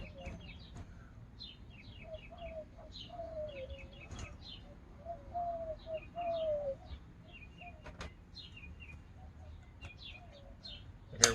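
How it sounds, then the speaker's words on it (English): Outdoor birds call back and forth, with soft, low pigeon or dove coos repeating alongside higher chirps. The calls come from a moderate distance against quiet background noise, and a few clicks and knocks break in near the end. "You hear those birds talking to each other out there?"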